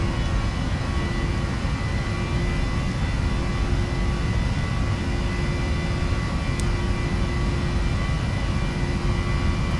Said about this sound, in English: Thrust stable. So go. Takeoff first set.